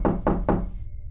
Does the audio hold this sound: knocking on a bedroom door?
yes